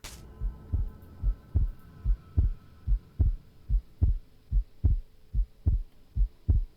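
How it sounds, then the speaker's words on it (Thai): Heartbeat effect from a realistic sound mod for Minecraft, a steady series of about twelve deep, thumping pulses, evenly spaced and fairly loud, played alone without talk. "มันจะมีเส ียงหัวใจเต้นครับ"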